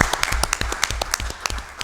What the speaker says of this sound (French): Maintenant, on peut applaudir le triathlon de Charlevoix qui a connu un succès sans précédent